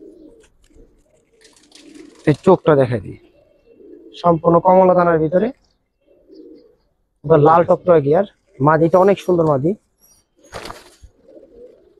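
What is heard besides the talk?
pigeons cooing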